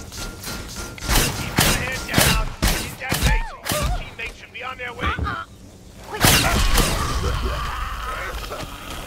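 Video game gunfire in Block N' Load, bursts of punchy blasts and whooshing shots in rapid succession, loud and close, with a voice talking over parts of the action.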